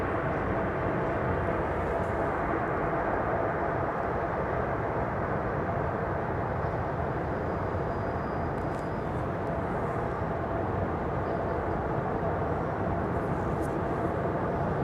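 An airplane landing at London Heathrow Airport, heard as a steady, loud broadband roar that holds without letup throughout, with no clear rise or fade.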